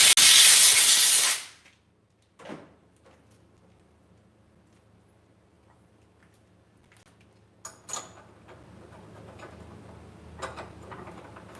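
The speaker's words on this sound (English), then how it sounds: "I always spray these out before I put them in there too." Aerosol spray hisses in one loud burst of about a second and a half while cleaning out spacer parts for a Bridgeport J-head milling machine, followed by quiet handling clicks and faint shop background.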